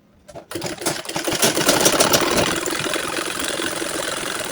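Sewing machine running steadily close by as it stitches seams on a 53-inch burqa, a quick start building into a continuous whirring rattle that holds for several seconds with no talk.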